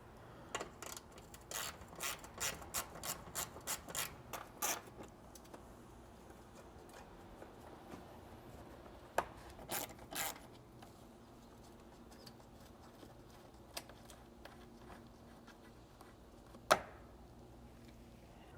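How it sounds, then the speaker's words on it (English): Ratchet clicking while removing 10mm bolts on a Lexus GX460: quick bursts of sharp ticks in the first five seconds, then scattered single clicks over a quiet background, close but fairly faint. "you can come in here and remove your three 10mm bolt heads"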